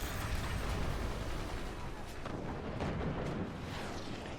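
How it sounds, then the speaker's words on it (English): Upgraded cannon fire in a team video game match, a dense run of booming, artillery-like blasts and bursts layered over constant loud battle noise, with a voice talking over parts of it. "There's the upgraded cannon fire."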